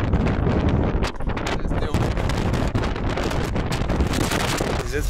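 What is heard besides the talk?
strong wind blowing into the microphone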